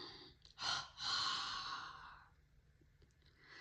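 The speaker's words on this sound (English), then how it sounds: "Inhale short and long through the nose, then short and long through the mouth" Breathing exercise with short and long inhales through the nose, then a long audible exhale through the mouth, close and fairly loud, trailing into quiet breath.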